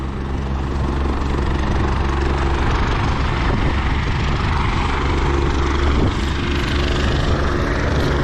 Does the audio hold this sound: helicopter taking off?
yes